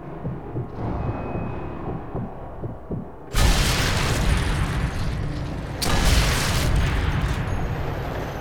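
A Panzerschreck rocket launcher fires in Sniper Elite 3, two loud, sudden broadband blasts with long roaring tails, over low thudding game ambience.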